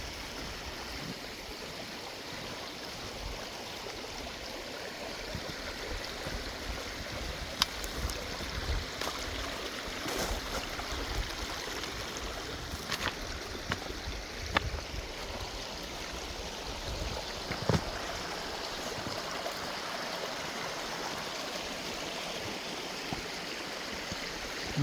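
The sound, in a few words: waterfall on a river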